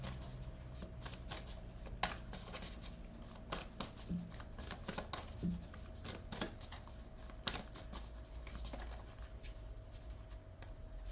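Dalí tarot cards being shuffled by hand, a steady run of soft papery riffles and slaps at close range, with occasional sharper card snaps and no talking.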